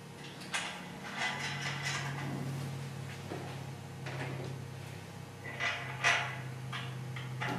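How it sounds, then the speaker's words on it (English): Stainless steel bolts with serrated nuts being fitted to the rails of a top-of-pole solar panel mount: soft scattered metallic clicks and scrapes, close but quiet, over a steady low hum. "now I'm going to go ahead and put the bolts on."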